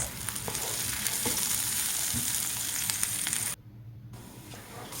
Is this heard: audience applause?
no